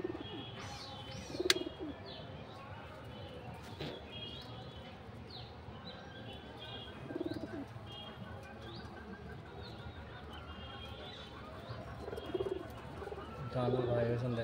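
Pigeons that have laid eggs coo softly at close range, low repeated rolling calls scattered through the background, with faint chirps and a few sharp knocks.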